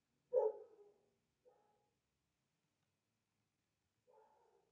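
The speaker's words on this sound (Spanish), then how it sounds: "Una disculpa por el sonido, mi perro." A dog barks indoors, one sharp bark followed by two softer, shorter barks after pauses, fairly faint against near silence.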